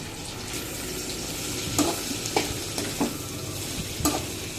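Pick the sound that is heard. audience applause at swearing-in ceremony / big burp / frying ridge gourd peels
frying ridge gourd peels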